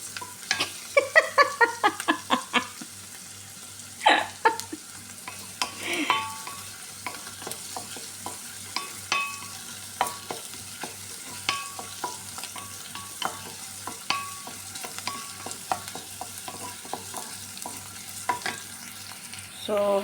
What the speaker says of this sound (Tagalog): ang amoy ng bawang at sibuyas na aking ginigisa